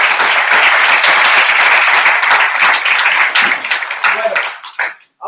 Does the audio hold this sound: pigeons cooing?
no